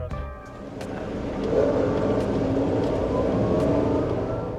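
A 2013 Daihatsu Ayla automatic's engine hums steadily, then rises in pitch and volume as it accelerates, continuing with a strong, even drone.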